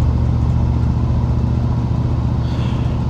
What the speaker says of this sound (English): I decided to drive the truck today